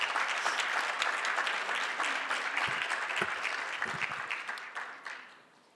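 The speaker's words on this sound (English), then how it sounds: "Can we give them another round of applause?" Audience applause at an anniversary and mental health symposium, a dense crowd clapping steadily that gradually thins and fades out over the final second or two.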